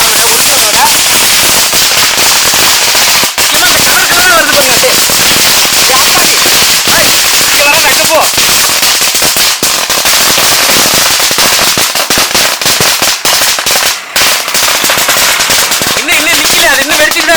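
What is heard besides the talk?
thousand-wala firecracker string bursting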